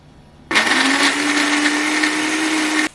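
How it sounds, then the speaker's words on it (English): A kitchen blender starts abruptly and whirs loudly for a couple of seconds while blending pepper and crayfish for coconut rice, then cuts off. "What I'm going to do is blend the pepper and the crayfish together."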